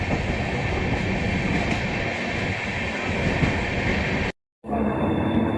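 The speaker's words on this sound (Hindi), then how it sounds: "ये देखिए भाई सुंदर सा कर्व ले रही है भाई अपनी अमृत भारत एक्सप्रेस" An Amrit Bharat Express train on the Howrah to Anand Vihar run rumbles steadily through a curve, giving a loud continuous rolling roar with faint wheel clatter, cut briefly by a short gap near the end.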